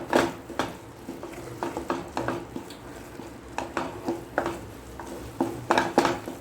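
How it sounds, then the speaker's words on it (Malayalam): Spoon scraping and knocking against a pan while a tomato ketchup mixture for egg cheese pasta is stirred, irregular metallic clinks and scrapes in a steady rhythm, close by, with no talking. "നല്ലതുപോലെ മിക്സ് ചെയ്ത് കൊടുക്കാം"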